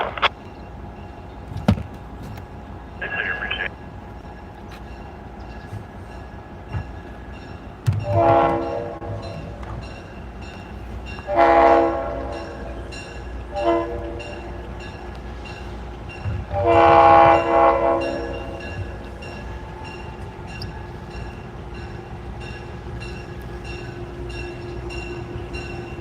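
Heritage locomotives SOU 630 and NC&StL 710 roll past at the Tennessee Valley Railroad Museum, sounding several loud horn blasts over a continuous rumble of passing engines and cars, growing nearer and louder.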